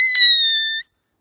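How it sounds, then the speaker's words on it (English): A blade of grass stretched between the thumbs is blown into a shrill, steady whistle. The single loud, close tone holds for under a second and then cuts off abruptly. "And you can make different pitch whistles"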